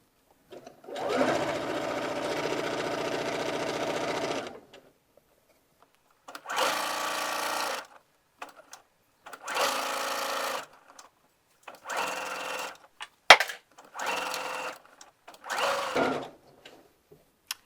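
A sewing machine stitches a side seam pocket in several bursts of whirring, a long run followed by shorter stop-and-start passes with back stitching, heard close up in a quiet room.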